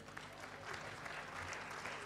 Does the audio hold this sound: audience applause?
yes